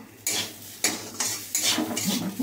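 A spoon stirs food in a pan, scraping in four or five distinct, fairly loud strokes close by over a soft steady sizzle, with no talking.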